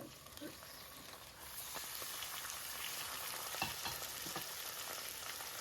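Chicken pieces frying in hot oil over golden-browned onions give a steady close sizzle with scattered crackles and pops, and a few faint stirring scrapes.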